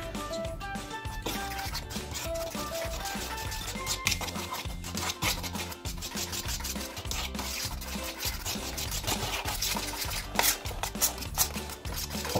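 Banana cake batter of mashed banana, eggs and milk is stirred steadily in a bowl, giving soft repetitive scraping strokes under quiet background music.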